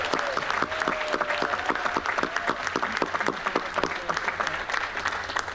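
Audience on a cruise ship, the Navigator of the Seas, applauds loudly as Captain James steps onto the stage, a steady, dense wash of many hands clapping through the whole stretch with no talking over it.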